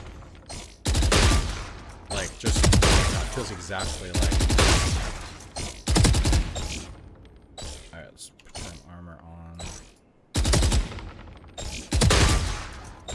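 Rifle fire in the game Valorant, loud rapid bursts of automatic shots with mechanical clicks between them, heard close and alternating with short pauses while someone talks over parts of it.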